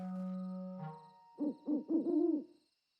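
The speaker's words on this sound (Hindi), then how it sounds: "तो देखा बच्चों, ये तो एक उल्लू है" A cartoon owl gives a series of four or five clear, rising hoots in quick succession, following a sustained tone at the start, in a Hindi children's animated show.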